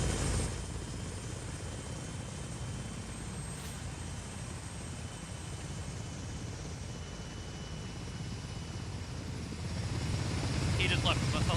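A helicopter in the military video game Arma drones steadily with a dense rotor and engine rumble that swells slightly toward the end, constant and fairly loud throughout.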